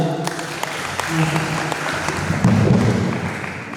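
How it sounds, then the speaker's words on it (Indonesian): An audience applauds at a Qur'an knowledge competition final, a sustained patter of clapping mixed with a low murmur of voices, moderately loud and fairly close. "Beri tepuk tangan untuk kedua."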